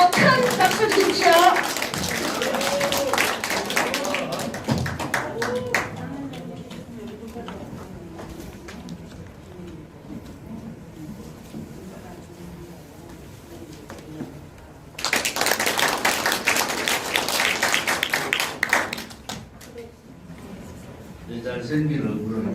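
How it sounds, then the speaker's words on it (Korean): A crowd claps loudly for several seconds at a political party speech event, then a voice speaks over a quieter room before a second burst of strong applause breaks out. "여러분 언제보다 더 큰 박수 주십시오."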